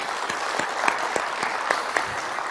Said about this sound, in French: Applaudissez-vous, s'il vous plaît.